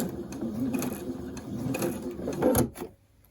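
A sewing machine runs in short mechanical bursts, stitching a back tack on a fitted fabric face mask with wire, with a quick forward-and-reverse clatter that cuts off near the end.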